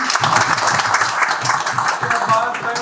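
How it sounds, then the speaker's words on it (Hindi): Audience at a housing project site meeting for 7 Wonders City Islamabad breaks into applause, a dense, continuous patter of many hands with voices mixed in underneath. "तालियां बजाएं थोड़ी सी"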